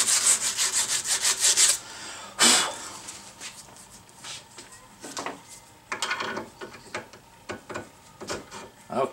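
A metal disc brake bracket rubbed by hand with emery cloth. Bursts of rough scraping strokes come close and fairly loud, fast at first, then in slower, irregular passes.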